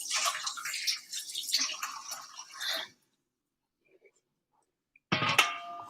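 Cold water splashing and pouring into a pot of cheese curd in salted water at a home kitchen, a gushing pour that stops, a pause of near silence, then a short burst of metallic clatter.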